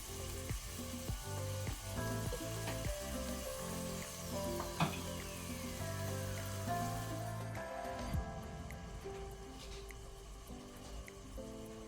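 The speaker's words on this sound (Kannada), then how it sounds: "ಈಗ ಈರುಳ್ಳಿಯನ್ನು ಮೀಡಿಯಂ ಟು ಹೈ ಫ್ಲೇಮಲ್ಲಿ ಒಳ್ಳೆ ರೀತಿ ಫ್ರೈ ಮಾಡ್ಕೊಳ್ಳುವ" Onions, tomato and green chillies fry for pav bhaji in a pan, a steady sizzle running under background music, with occasional stirring clatter.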